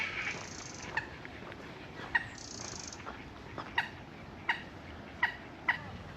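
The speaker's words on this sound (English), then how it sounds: "I think it's American hens." Hens make short, sharp calls at irregular intervals, about a half-dozen clucks and gobbles over a steady outdoor background in Edinburgh's botanic garden, fairly close.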